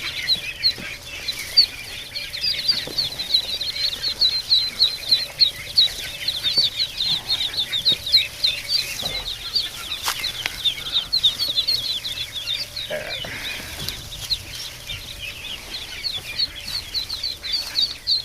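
Ducklings in a brooder keep up a dense, high chorus of peeping with scattered wing flaps and scuffling, close by and continuous.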